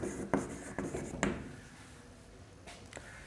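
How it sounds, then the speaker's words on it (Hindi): Marker or chalk strokes on a board during a chemistry lesson: a few quick scratchy taps and squeaks in irregular rhythm, close and moderately quiet, with a faint voice in the background. "तब लिखेंगे गब्बर"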